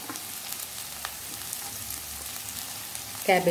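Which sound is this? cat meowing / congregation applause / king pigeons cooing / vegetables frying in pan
vegetables frying in pan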